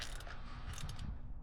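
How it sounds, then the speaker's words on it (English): A ratchet works to break loose a spark plug on a Sea-Doo personal watercraft, giving quick, close mechanical clicking and grinding over about a second and a half, with no talk. "I'm just going to break in loose with the ratchet"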